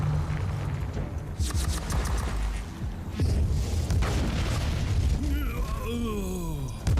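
Grenades burst in Warhammer 40K: Inquisitor - Martyr, a run of loud booms and pops over dense game combat noise, with a few sharp detonations standing out.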